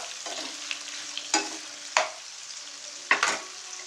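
Asafoetida powder being added to tomato chutney frying in a pan, with a steady soft sizzle broken by three or four sharp scraping stir strokes.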